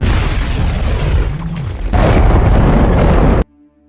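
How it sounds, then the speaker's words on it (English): A large blast from a fired weapon in a film, a loud sustained explosive roar that swells again midway and then cuts off abruptly into near silence. "the explosion of his weapon instead destroyed the cage in the lab"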